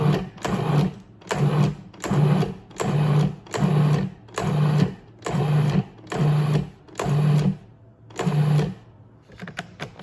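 A food processor pulsing cold butter into flour for a gluten-free pie crust, about ten short whirring bursts in a steady rhythm, each a second or less with brief pauses between, close and clear without talk.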